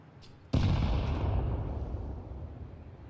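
A single loud gunshot blast erupts in a Counter-Strike match, followed by a long, rumbling decay that fades slowly over the next few seconds.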